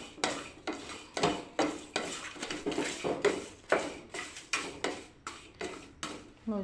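Star anise being dry-roasted in a pan for garam masala, stirred with a steady rhythm of scraping, rattling strokes roughly twice a second, each stroke a distinct dry clatter against the metal.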